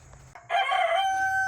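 A rooster crows once, loud and close, among chickens eating their supper on a mountain homestead farm, with a few soft clucks before the long drawn-out call.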